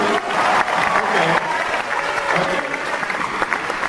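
A comedy club crowd at a stand-up show in Jerusalem breaks into loud, dense applause, a sustained wash of clapping with scattered cheers that tapers slightly toward the end.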